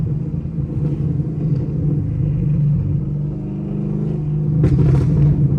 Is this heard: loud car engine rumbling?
yes